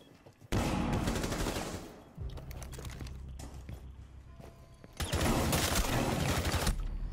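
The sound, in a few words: gunfire in a video game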